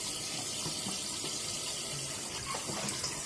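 Running water splashes steadily as raw chicken is washed in water mixed with rice vinegar, a continuous close-up pouring and swishing sound with no talking.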